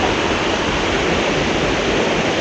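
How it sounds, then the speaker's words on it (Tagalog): Waterfall pouring close by in a continuous loud, dense rush of white water, unbroken and without voices. "Tingnan natin ang malapitan yung falls."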